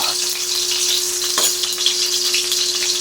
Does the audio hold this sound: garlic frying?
yes